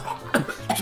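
A person coughs twice during a Minecraft game session, two short sharp bursts close to the mic, separated by a brief pause and set over faint background game sound.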